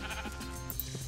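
Sheep bleating in the video game Minecraft, several overlapping wavering bleats packed into a short, steady burst with no talking.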